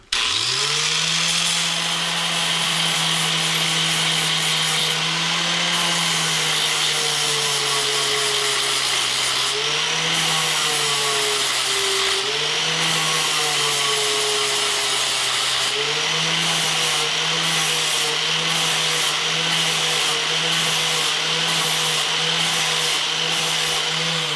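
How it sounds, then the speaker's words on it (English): Angle grinder cutting steady into the metal of an axe head, a continuous loud whine with slight pitch dips as pressure changes, running alone for the whole stretch. "So I'm going to grind the rest of the metal down."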